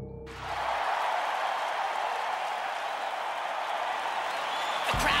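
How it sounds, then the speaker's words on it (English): Crowd cheering and clapping in a Beyblade stadium in an animated series, a sudden swell of dense roaring applause that holds steady for several seconds and sounds layered and somewhat distant, with no talk over it. "The crowd is going absolutely gonzo with anticipation."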